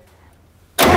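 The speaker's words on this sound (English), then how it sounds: "I have my battery cable connected and I'm ready to roll the engine over." A John Deere engine is cranked over with the starter to bleed its injectors. After near silence, a loud, abrupt cranking roar begins late and continues to the end.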